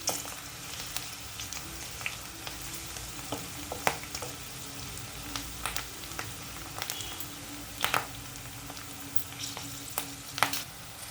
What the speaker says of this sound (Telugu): ఇలా మనం దోరగా వేయించుకోవాలి